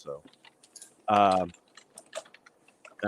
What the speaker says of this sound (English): No, that's normal typing. It's just a mechanical keyboard.